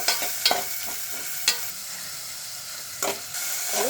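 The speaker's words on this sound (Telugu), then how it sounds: "టమోటా ఉల్లిపాయ పేస్ట్ వేయాలండి" Tomato and onion paste fries in a pan for a crab curry with a bright, hissing sizzle. Several distinct spatula knocks and scrapes are spaced across the few seconds, close by, and no one talks.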